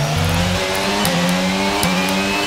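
An F1 car in the F1 22 video game brakes into a turn at Baku, heard from the cockpit: a loud, steady engine note steps down through several quick downshifts, with the engine close and no voices over it.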